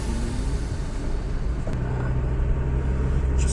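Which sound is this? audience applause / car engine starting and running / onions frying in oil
car engine starting and running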